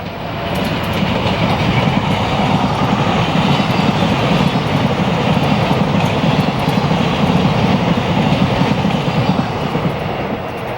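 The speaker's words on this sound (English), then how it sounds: "Trains that roll by this tower include Amtrak, NJT, and PATH commuter trains." A train rolls past an old Pennsylvania block tower on the Northeast Corridor near Newark, New Jersey, a steady, loud, continuous rumble of wheels and cars throughout, with no voices.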